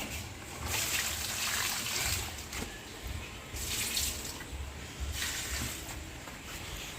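Water poured by hand onto potted flowering plants, a soft steady splashing and trickling that comes in a few gentle waves, fairly quiet, with no one talking.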